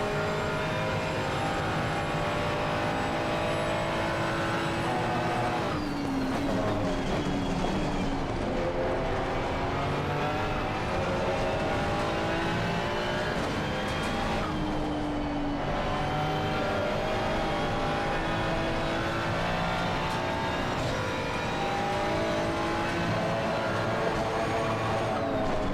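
Race car engines in a racing video game roar steadily and loudly throughout, with pitch sweeping up and down through gear changes and brief drops as cars shift and jostle for position.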